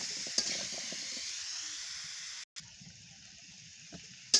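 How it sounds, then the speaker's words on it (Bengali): Chopped eggplant frying in a pan gives a steady close sizzle, broken by a brief pause, with scattered scraping and clinking from a spatula being stirred through it. "আর কেটে রাখা বেগুনগুলো দিয়ে দিলাম। দিয়ে ভালো করে নেড়ে"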